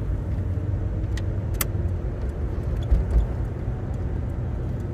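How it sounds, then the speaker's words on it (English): A 1984 Chevrolet Caprice Classic cruises along with a steady, low engine and road drone heard from inside, plus a few faint clicks and rattles. "Really enjoyable car to drive."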